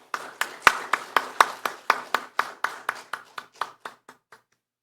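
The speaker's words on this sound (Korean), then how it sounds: "우리 하나님께 감사의 박수 올리겠습니다" A congregation at a Korean church Sunday service claps in unison, about seventeen sharp, rhythmic claps that slow slightly and fade away toward the end.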